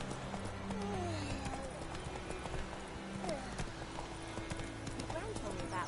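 Hooves of the horse Roach galloping in a video game, rapid rhythmic clip-clop close by with a brief whinny, under game music and a voice talking.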